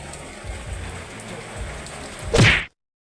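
Steady rain patters on a surface, a soft continuous hiss with a few low thumps, ending in a louder splashy burst before cutting off.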